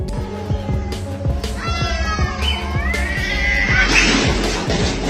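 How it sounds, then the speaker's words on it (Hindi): Two cats fight behind a sleeping dog, yowling and meowing in rising, wavering cries over a steady low background, growing louder and more frantic toward the end. "सोते हुए कुत्ते के पीछे खड़ी ये दो बिल्लियां एक दूसरे से लड़ पड़ती हैं"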